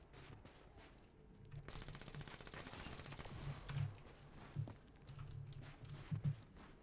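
An MG42 machine gun fires in Call of Duty: Black Ops 3 custom zombies mode, with rapid, rattling bursts that sound fairly faint and distant and repeat in several short clusters over low game ambience.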